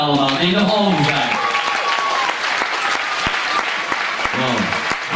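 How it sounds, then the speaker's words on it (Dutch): Audience at a 2014 dance show breaks into loud, sustained applause that fills the whole stretch, with a voice talking over the start and a few cheers mixed in. "Ik wil, voordat ik het laatste paar opnoem, een gigantisch oorverdovend applaus hebben voor deze paar allemaal die nog over zijn."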